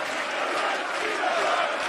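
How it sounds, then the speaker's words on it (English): A darts crowd reacts to a narrowly missed nine-dart finish with a sustained, loud wash of groans and cheers that fills the hall without a break. "And the crowd respond."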